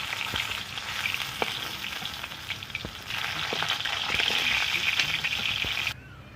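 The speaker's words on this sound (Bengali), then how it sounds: "আমি দাগাগুলো ভেজে নিচ্ছি।" Pieces of rui fish fry in hot oil in a home kitchen, giving a continuous close sizzle with scattered pops and crackles that swells midway, then drops off abruptly near the end.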